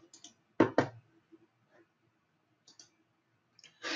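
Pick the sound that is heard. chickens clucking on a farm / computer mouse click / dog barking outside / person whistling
computer mouse click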